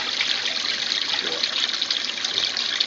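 Water draining steadily out of the spin rinse tub of a Canadian-made Simplicity twin tub washer, a continuous hissing trickle and gush at even loudness throughout, with no talk.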